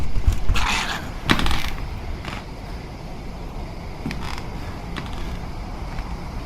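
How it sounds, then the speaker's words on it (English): In the Survive The Nights video game, zombies are breaking down a wooden door: repeated creaking and thudding knocks come in irregular bursts against a noisy background, fairly loud with no speech. "They're breaking down the door."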